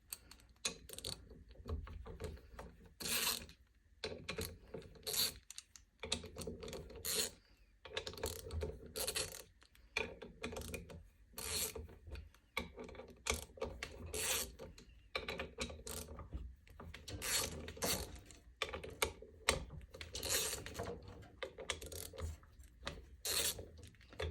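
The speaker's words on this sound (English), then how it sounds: "Now I make sure that the pump bolts are completely loose." Pump bolts being loosened on an E4OD/4R100 automatic transmission pump, a long run of quick ratchet clicks in repeated bursts with brief pauses, close and quiet, no talking.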